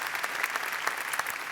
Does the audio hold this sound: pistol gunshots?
no